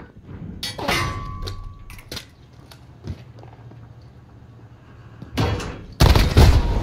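Loud, punchy pistol shots in Call of Duty: Modern Warfare, a few isolated cracks spread across the moment with a heavier double blast near the end, over quiet game ambience.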